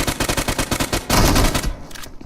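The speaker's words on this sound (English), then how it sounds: "that cover fire was pretty quick" Rapid bursts of automatic gunfire from a PUBG Mobile match, loud and close, a fast even rattle of shots followed by a denser volley and a few trailing rounds, with no talk over it.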